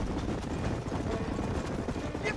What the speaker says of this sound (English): we need to do this race, and we need to follow all these horses